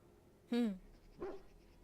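Dog barking in the video game Dragon Age Origins, one clear close bark followed by a softer second yelp, fairly quiet overall.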